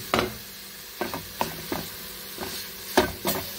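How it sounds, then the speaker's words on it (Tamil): Ground peanuts are stirred into a sweet kozhukattai filling in a pan, with about eight distinct scraping strokes of the spoon at an uneven pace over a faint sizzle, quiet and close, with no one speaking. "இப்போ இதில் நம்ம அரைச்சி வச்சிருக்க அந்த வேர்க்கடலையை சேர்த்துக்கலாம்"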